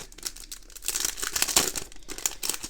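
A greeting card envelope is torn open by hand, paper crinkling and ripping in a busy, close, continuous stretch of rustles.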